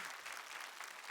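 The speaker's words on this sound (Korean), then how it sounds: "박수 잘 치시는 거예요" A church congregation claps during a Sunday sermon, a brief, faint patter of many hands heard from a distance with no voices over it.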